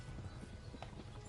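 Horse hooves clip-clop in a steady rhythm in the medieval video game Kingdom Come: Deliverance, a close, continuous gait with a faint whinny-like tone partway through and no talking.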